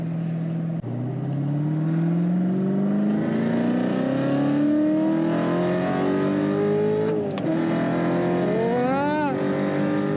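A Chevrolet Corvette C7 Z06 with an aftermarket downpipe accelerates hard in one long, loud pull. Its deep, booming exhaust climbs steadily in pitch, dips briefly at a shift, then rises again with some rattle.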